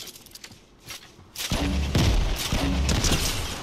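A grenade launcher fires repeatedly in the video game Fortnite. Faint thuds come first, then a dense, loud run of booming blasts and rumbling explosions piles up and carries through to the end.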